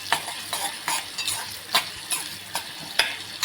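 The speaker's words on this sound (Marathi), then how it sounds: "इथे आपला आता कांदा आता शिजत आला आहे" Chopped onion fries in a pan with a soft continuous sizzle, while a spoon scrapes and taps against the pan in a regular rhythm about every half second.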